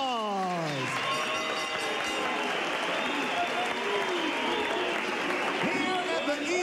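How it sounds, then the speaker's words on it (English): Crowd applause for two boxers after a 12-round IBF minimumweight championship bout at the East London ICC, a sustained roar of clapping and cheering under a ring announcer's voice. "Let's give both of these boxers a big round of applause."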